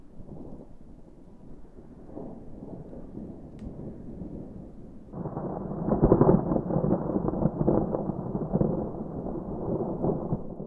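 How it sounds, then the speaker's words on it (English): Thunder rumbles during a winter thunderstorm at a campsite by a frozen lake, starting as a faint low roll and then swelling into a louder, sustained rumble that fades slowly, with no talk. "I've never heard thunder in the winter before."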